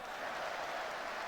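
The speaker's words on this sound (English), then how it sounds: "Crowd cheering for every pass." A stadium crowd cheers and applauds in the Football Manager 2022 match, a dense, steady roar of noise with no breaks.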